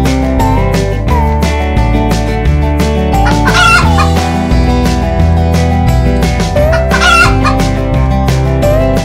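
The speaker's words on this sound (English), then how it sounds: "Look at this beautiful chicken." A farm chicken clucks and a rooster crows over loud, steady cartoon-style music with a bouncy beat, the bird calls blending into the backing track throughout.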